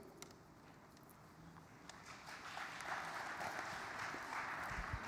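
Audience applause at a general assembly, starting faint and swelling into a steady, moderately distant wash of clapping from a large crowd.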